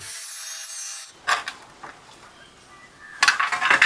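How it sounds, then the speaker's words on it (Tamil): A broken, rusted part is cut off an old scrap bicycle being restored, with a few short, rasping saw strokes separated by pauses, close up and fairly loud. "அது உடஞ்சிக்கு போயிடுச்சு, கட் பண்ணி விட்ருவோம்."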